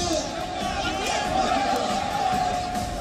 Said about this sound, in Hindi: वीडियो में मंच टूटने के दौरान मची भगदड़ के बीच कुछ अनाउंसमेंट भी सुनाई दे रही है।